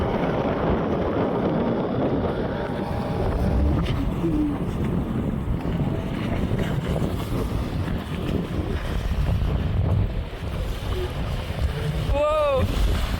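Wind rushes steadily across the microphone over the wash of water against a sailboat's hull, under sail alone with the engine off, with a brief whistling tone near the end.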